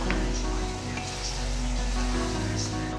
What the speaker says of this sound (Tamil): நல்லா கொதிக்க விடும்.